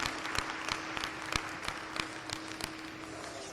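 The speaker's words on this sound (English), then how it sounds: "Let's give a big round of applause for all your heavyweight champion" Scattered, fairly faint clapping from a crowd around a county fair sheep show ring, with sharp individual claps standing out over a steady low hum, never swelling into a loud ovation.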